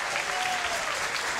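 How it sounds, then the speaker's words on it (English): Crowd at the Kegel Rollin' Thunder bowling final applauding loudly and continuously, a dense wash of clapping with no break across the short stretch. "He's got the crowd going"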